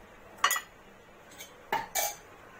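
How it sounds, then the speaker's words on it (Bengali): A spoon clinks against a metal pot while ghee goes into a chicken roast, four short sharp taps spread out against a quiet background. "আর 2 চামচ ঘি নিয়ে নিচ্ছি আমি"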